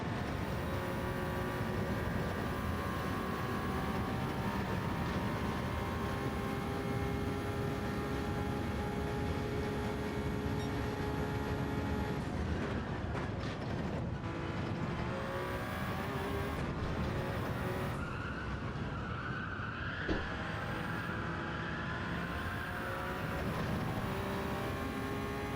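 GR1 race car circling Watkins Glen in Gran Turismo 7, a steady loud engine drone with shifting pitch through gear changes, continuous for the whole stretch with no talk.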